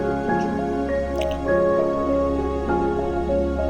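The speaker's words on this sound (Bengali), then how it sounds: "আরেকটা চুলায় মাছ ভেজে নিচ্ছি।" Fish frying in a karahi pan on a stove gives close, steady wet bubbling and squishing with small dripping pops over a constant low hum.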